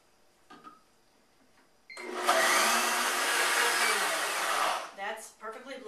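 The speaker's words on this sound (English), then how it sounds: "Cashews are very soft nuts, so they're pretty easy to blend." A blender whirs loudly through cashews, water and vanilla, a steady dense roar lasting about three seconds that then cuts off, with a few clanks and faint handling noise after it stops.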